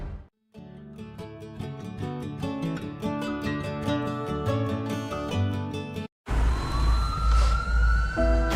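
After a stretch of music, a wailing siren rises and falls over loud, rumbling engine and road noise.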